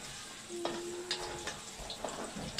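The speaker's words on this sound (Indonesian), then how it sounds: "Mula-mula kita masukkan bawang putih kita dengan bawang merah. Kita tumis dulu." Garlic and shallots sautéing in hot oil in a pan for a Malaysian village-style mixed vegetable dish with papaya flowers, giving a steady soft sizzle with a few light utensil clicks and stirring scrapes, no talking.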